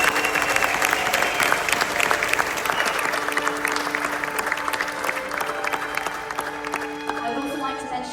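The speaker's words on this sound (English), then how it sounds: "let's give them a big round of applause" Audience applause for World War II veterans at a gathering aboard the Icon of the Seas cruise ship, sustained dense clapping from a large crowd with a little cheering, loud and close, with some talking underneath.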